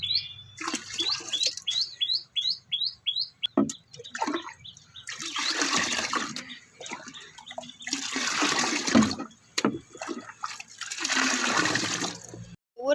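Water gushing and splashing into a 50-litre can as fertilizer is mixed in for rose plants, loud bursts of pouring with pauses between, while birds chirp nearby early on.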